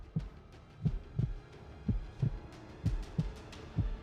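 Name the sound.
heartbeat sound effect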